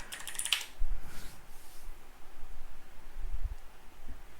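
Soft, scattered taps on a computer keyboard as a short phrase is typed, faint and close with a few brief bursts of clicks and a low rustle between them.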